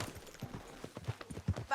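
Horse hooves clop in a quick, uneven rhythm on the ground in the Red Dead Redemption 2 video game, heard close but fairly quiet.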